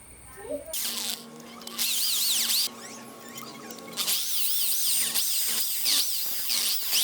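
Power drill boring a hole in a speargun arrow, loud and close, its whine rising and falling in long bursts with brief pauses between.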